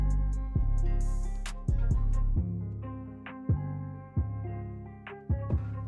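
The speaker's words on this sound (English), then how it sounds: "So this is what it looks like when I muffled the melody." Muffled electronic beat melody with both low and high ends filtered out, giving a dull, boxy tone; repeated thumping hits and sustained chords play alone at moderate loudness with no talk.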